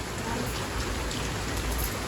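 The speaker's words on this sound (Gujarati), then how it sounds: "વરસાદ ચાલુ થઈ ગયો ગાય જોરદાર જો" Heavy rain pours down steadily during a Navratri-season downpour, a dense, continuous hiss close by with no pauses.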